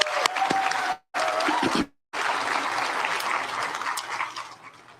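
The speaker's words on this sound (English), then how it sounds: "Can we give our graduates another round of applause?" An audience at a nurse pinning ceremony applauds graduates steadily, a dense wash of clapping that breaks off twice briefly, then continues and slowly tapers near the end.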